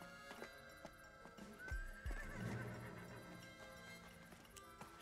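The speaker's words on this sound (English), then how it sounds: "I hate horses. Stupid beasts." A horse in the video game Desperados III whinnies loudly with a long, quavering neigh, set against layered background music and faint ambient noise.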